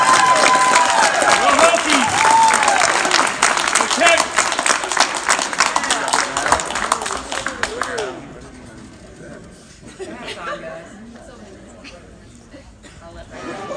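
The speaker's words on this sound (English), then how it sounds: "Let's give him a round of applause" Audience applauding and cheering at a high school early signing day, loud dense clapping with shouts for about eight seconds, then dropping to quiet room noise and faint scattered sounds.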